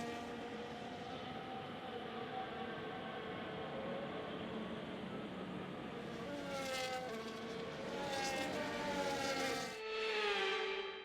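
F1 cars on a formation lap in the F1 25 video game at Qatar: a sustained engine drone with tonal whines rising and shifting as cars pass, growing louder toward the end, no talk.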